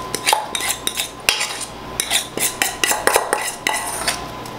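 Compound butter is scraped onto a piece of plastic wrap with a utensil, giving a quick, irregular series of close clicks, taps and scrapes against the wrap and bowl.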